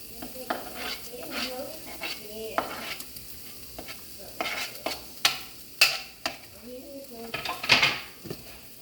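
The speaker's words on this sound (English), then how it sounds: "Let that sizzle a minute." Sizzling in a pan with intermittent scraping and stirring clatter, close by, while a voice speaks at times.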